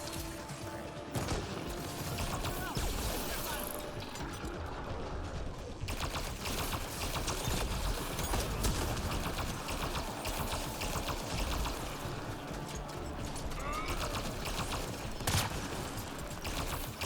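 Dense, continuous video-game gunfire rattles nearly unbroken for about seventeen seconds, a busy wash of rapid shots under a steady loud bed with a few sharper bursts standing out.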